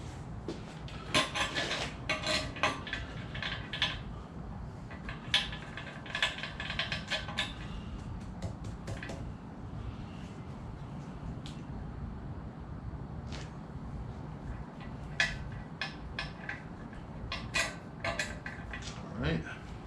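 Metal bolts rattling and clinking as hands rummage through them, scattered bursts of close jangling separated by quieter stretches of faint shuffling and low background noise.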